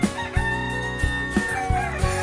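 American White Silkie chickens cluck and crow loudly and close, with repeated sharp calls spaced every half second or so over a steady background of farmyard noise.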